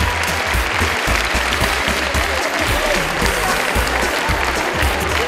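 Loud, continuous applause from an audience for the theatre troupe La Farce Enchantée, a thick crowd of clapping hands that fills the whole stretch without letting up.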